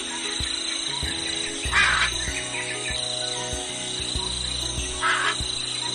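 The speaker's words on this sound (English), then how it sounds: "harsh noise of a bird." At a zoo, a bird lets out two loud, harsh squawks a few seconds apart over a steady background hum and soft rhythmic knocking.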